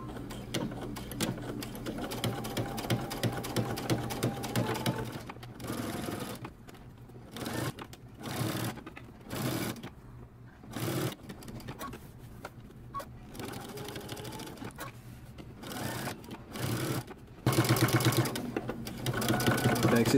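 Domestic sewing machine stitching close to the edge of a man's fitted shirt collar, running in several bursts of rapid whirring with short pauses between them, while someone talks over it.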